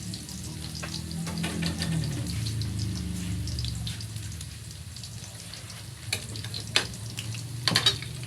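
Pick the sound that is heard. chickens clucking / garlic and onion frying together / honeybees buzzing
garlic and onion frying together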